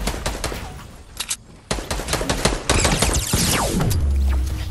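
Rapid, dense gunfire in a multiplayer video game match: overlapping bursts and volleys that run almost without pause, loud and close, with no talking.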